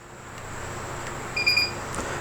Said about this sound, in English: The 2 beeps tell you that it is ready, right?